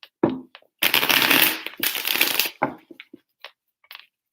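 A deck of tarot cards gets shuffled by hand, with bursts of riffling and papery flutter separated by short taps and gaps, close and fairly loud with no talk.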